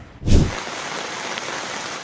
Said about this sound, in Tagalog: binayo na malakas na ulan ang bayan ng Senator Ninoy Aquino sa Sultan Kudarat